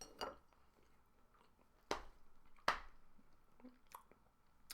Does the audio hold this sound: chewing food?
yes